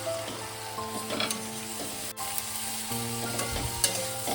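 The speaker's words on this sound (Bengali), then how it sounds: "বিনসটা দিয়ে আমি আবারও মশলাটা ভালো করে ওর সঙ্গে কষিয়ে নেব।" Beans stir-fried with potatoes and spices in a pan for beans aloo posto, a close, steady sizzle with repeated spatula scrapes and stirring clatter throughout.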